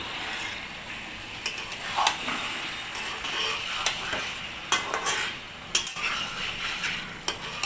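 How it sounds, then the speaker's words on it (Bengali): Prawns stirred gently through a frying spiced tomato masala for a prawn do pyaza, a soft steady sizzle with scattered scraping clicks of a spoon against the pan, close and alone. "এবারে চিংড়ি মাছগুলো দিয়ে একটু নাড়াচাড়া করে নেব আলতু হাতে"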